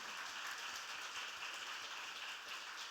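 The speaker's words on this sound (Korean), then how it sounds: "큰 박수로 환영해 주시고요" Steady applause from a church congregation fills the room, continuous and fairly even, with no voices over it.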